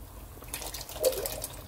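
Liquid pours and splashes briefly as two opened tins are emptied, juice and all, into a pot of boiling yakhni on the stove.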